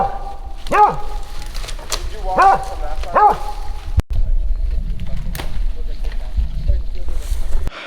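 A hunting dog barks in the distance from inside a brush pile while chasing a rabbit, several sharp separate barks early on, followed by wind and rustling outdoors.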